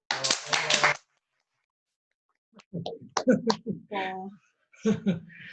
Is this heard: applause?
yes